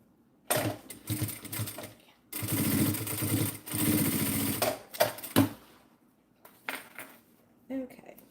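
A sewing machine stitches a bag in several close bursts of fast mechanical clatter separated by pauses, the longest run lasting a couple of seconds, with handling noises between runs.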